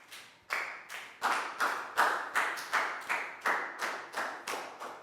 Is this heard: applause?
yes